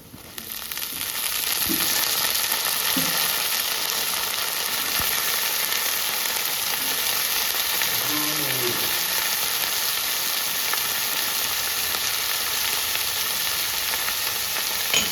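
Brinjal pieces hit a pan of oil with a dried fish tempering and sizzle steadily, close and fairly loud. The hiss holds for the whole stretch, broken by a few soft knocks of the pieces landing.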